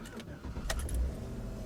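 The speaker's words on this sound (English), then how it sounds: "All I'm going to do is start the engine" A GM 5.3L V8 SUV engine turns over and catches in a short, quiet burst of cranking, with a faint jingle of keys and a few light clicks.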